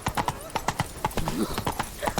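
Roach, a horse in The Witcher 3, gallops with steady rhythmic hoofbeats close by, a brief neigh rising midway through the run.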